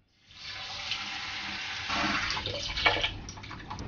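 Cold tap water pours steadily into a bowl of basmati rice, a continuous close hissing rush that starts abruptly and keeps running, with faint splashing toward the end.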